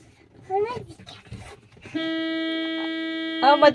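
After brief talk, a voice imitates a car horn with one sustained, steady honking tone lasting over a second, then more voices follow.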